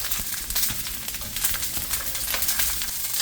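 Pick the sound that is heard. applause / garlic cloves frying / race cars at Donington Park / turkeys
garlic cloves frying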